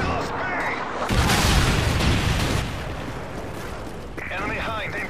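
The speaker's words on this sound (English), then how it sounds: "Tossing stun grenade!" A stun grenade detonates in a combat video game: one loud, broad blast that swells and rumbles for a second or two over battle ambience, with voices talking before and after.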